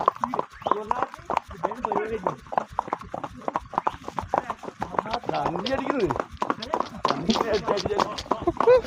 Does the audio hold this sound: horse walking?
yes